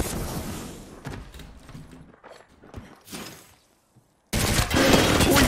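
Gunfire in a first-person shooter video game, with bursts of rapid shots and impacts, a quieter gap with scattered steps and thuds, then a loud sustained volley of fire at the end.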